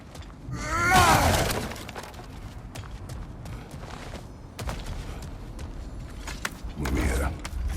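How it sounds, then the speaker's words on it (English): Objects shatter and break as a character smashes through them in God of War Ragnarök, a loud crash near the start and another toward the end over a steady rumbling game backdrop. "back to smashing through things for fun and profit"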